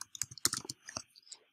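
Typing on a computer keyboard to enter a command: a close, quick run of sharp key clicks in uneven bursts, some keys struck harder than others, with no voices.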